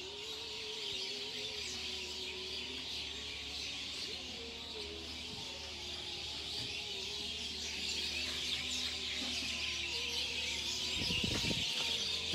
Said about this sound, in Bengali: পাখির ডাক শুনতে পারতেছেন আপনারা নিশ্চয়